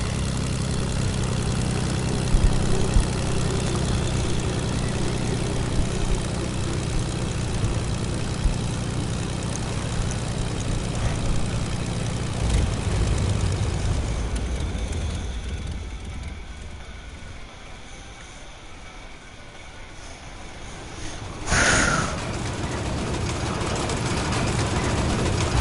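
A damaged propeller plane engine in a video game drones loudly and steadily, then thins and fades partway through, with a short sharp burst near the end and no talking.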